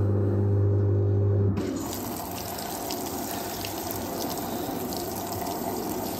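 A Fisher and Paykel WashSmart 7 kg washing machine starts filling with water for a deep rinse, a steady rushing flow that begins abruptly after a low hum and continues close by.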